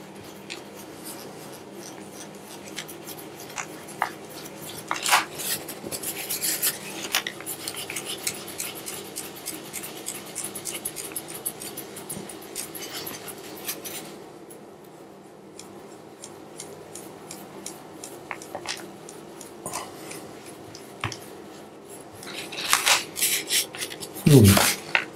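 Oil-based clay surface rubbed by hand with a solvent, giving soft, close, irregular scratchy friction and small taps that run under faint background sound, growing louder near the end.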